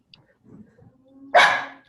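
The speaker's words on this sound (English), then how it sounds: "is that your dog? It's the dog." A pet dog gives a single loud bark near the end, following a stretch of quiet, faint background sound from a home setting during a conversation.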